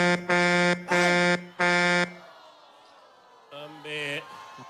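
A loud horn honks three long blasts in a row, then after a pause two shorter, higher-pitched honks follow, with a bustling crowd faintly behind.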